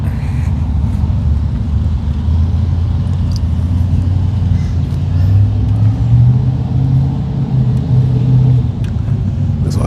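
Cars roll up to the staging lanes at a Mopar car event, giving a steady, loud, low engine rumble that stays continuous throughout and swells slightly midway, heard close by.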